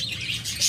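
A pair of tame cockatiels gives a quick, fairly faint burst of high chirps, one short tweet-like call with no voices.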